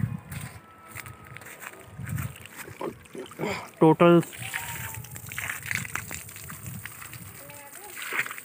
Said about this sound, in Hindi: ये क्रोमटोन का 1 HP का टुल्लू पंप है। अभी हम इसको स्टार्ट करते हैं